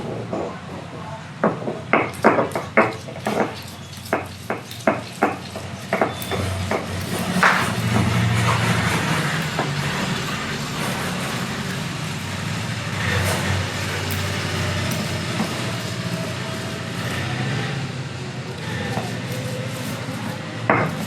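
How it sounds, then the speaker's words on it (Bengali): Radish greens are ground by hand on a stone slab with a stone pestle (shil-nora), starting with a run of sharp rhythmic knocks and then moving into a sustained gritty rubbing and scraping, close and fairly loud. "শিলবাটায় এগুলোকে এবারে বেটে নেব।"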